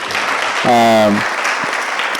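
Audience at a school debate contest between Utumishi and Stratmore breaks into steady applause, with a short voiced shout or cheer rising above the clapping midway.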